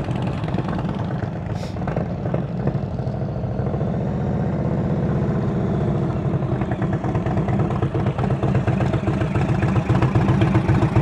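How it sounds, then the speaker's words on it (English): A motorcycle engine idles at low revs during slow-speed riding practice, giving a steady, loud, close mechanical rumble with a rapid clattering pulse that holds for the whole stretch without speech. "You hear the engine? Too low."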